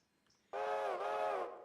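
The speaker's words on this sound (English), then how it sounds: "I can hear another train moving somewhere" A train in the Railroader video game sounds its steam whistle once, a clear sustained tone about a second long rising abruptly out of near silence, heard at moderate distance.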